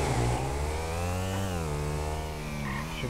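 Turbocharged yellow car in the GTA 5 video game, its engine droning at a steady, buzzy rev with slight pitch wavers, sustained and close throughout.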